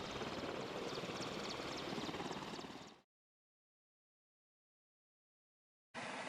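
Air ambulance helicopter carrying critically ill coronavirus patients in Germany, its steady rotor and engine drone loud and close for about three seconds before cutting to silence, then returning briefly.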